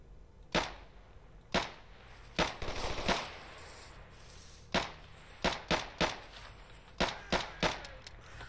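Gunfire in STALKER Anomaly, a run of sharp separate shots spaced irregularly, some in quick pairs and triplets, each a crisp crack with a short tail against a quiet background.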